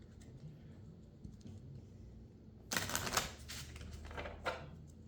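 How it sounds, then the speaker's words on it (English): Board game cards are shuffled in a quick, close burst of rapid riffling clicks, starting suddenly after a quiet stretch and trailing off into a few softer flicks. "we'll do a quick shuffle on these"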